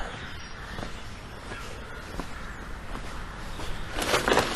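A crow caws a few times outdoors near a church in winter, the calls faint to moderate over steady street and footstep noise, with a louder cluster toward the end.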